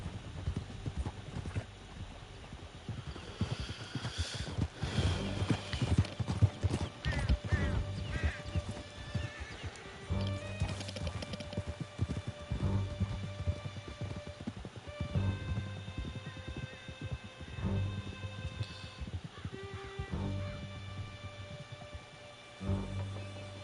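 Galloping horses in a video game, a rapid, loud clip-clop of hooves pounding steadily throughout, with occasional neighs and whinnies and bursts of game effects and music layered over the hoofbeats.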